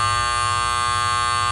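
A septic tank alarm sounds a loud, continuous electronic tone that buzzes without a break, harsh and close, with no voices.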